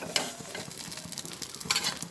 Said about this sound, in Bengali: অল্প করে একটু এধার ওধার করে এগুলোকে ভেজে নিচ্ছি